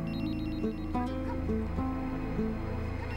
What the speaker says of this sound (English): the phone rings, loud and clear